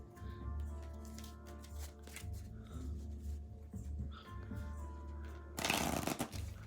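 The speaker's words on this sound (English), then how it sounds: "So we are going to clarify the cards that are there, and I am going to shuffle this" Cards being shuffled close by, soft riffling and sliding that builds to a loud burst of rapid flutter near the end.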